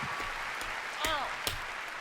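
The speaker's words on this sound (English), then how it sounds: "Another round of applause, please, for Mark Hugo and all of our presenters tonight." Audience applause fills a large hall during a live E3 games showcase, a dense steady wash of clapping with a brief cheer or whistle rising through it and crowd voices mixed in.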